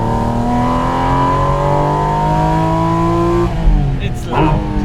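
A Porsche GT4 RS engine revs hard at half throttle on wet roads, a loud, rising multi-toned howl heard from inside the car that holds steady, then dips and shifts near the end.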